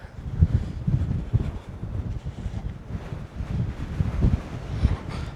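Strong gusty wind buffets the microphone at Nagle campsite in Doolin, Ireland, a loud, uneven low roar that surges and eases repeatedly, with no voices.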